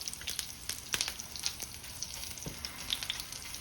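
Red hot link sausages frying in a skillet give off a soft, steady sizzle, with scattered faint crackles and pops.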